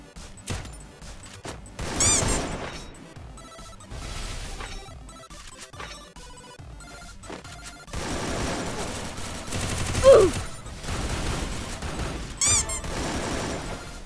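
A Thompson submachine gun fires in a battle royale shooter, rapid rattling bursts near and far, interspersed with quieter gaps, sharp impacts and a louder volley toward the end.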